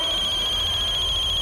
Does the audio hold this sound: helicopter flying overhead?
no